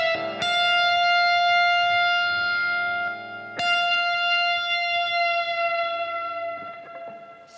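Electric guitar riff: two sustained, bright picked notes, each dipped in pitch with the tremolo bar partway toward E, ringing loud and close with a short gap between them and no talking.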